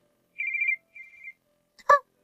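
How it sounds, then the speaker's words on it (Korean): A telephone rings in two short, trilling electronic bursts, fairly clear against silence, followed by a brief voice. "전화 왔다"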